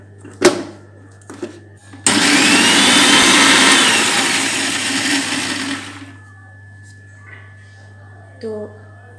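A blender grinds a spice paste with dried chillies for a Shankar fish recipe. One loud, steady whirring run lasts about four seconds and then cuts off, with brief clatter and voices before and after.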